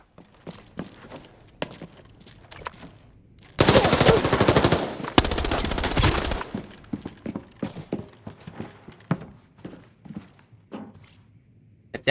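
Sustained automatic gunfire in the shooter game Arena Breakout Infinite, a dense, loud burst lasting about three seconds, with scattered footsteps and sharp thuds before and after.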